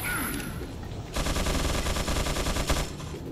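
Rapid shots from a Red 9 pistol fire in Resident Evil 4 Remastered: a dense, steady string of loud reports that starts abruptly after a quieter stretch and continues without speech.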